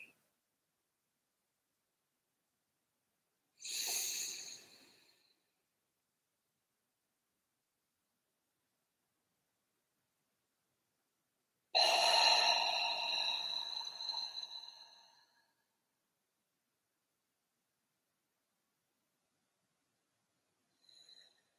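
Two slow, breathy exhalations during a guided breathing exercise, the second longer and louder, separated by long silence, with a faint breath at the end.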